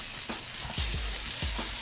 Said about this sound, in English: Let them cook just until the peppers soften